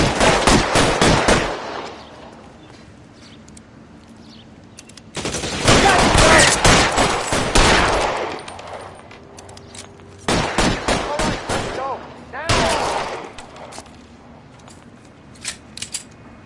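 Bursts of rapid gunfire in the video game L.A. Noire during a traffic case shootout, with loud dense volleys at the start, around six to eight seconds, and again near ten and thirteen seconds, separated by quieter lulls.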